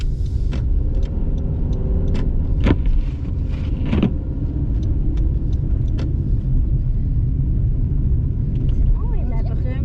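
A car rolls along a snowy road on Montreal's south shore and thumps over potholes with a heavy rumble and irregular sharp knocks, while people talk inside.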